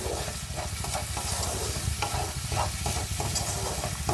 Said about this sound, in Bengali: ভালোভাবে মশলার সাথে মিশিয়ে কষিয়ে নিতে হবে